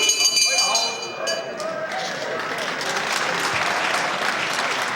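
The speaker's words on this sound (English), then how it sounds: "Nice round of applause for both men." Steady crowd applause fills a televised UK heavyweight wrestling hall around 1976 to 1981, honouring two wrestlers right after the bell ends the third round, with a commentator's voice running over the clapping throughout.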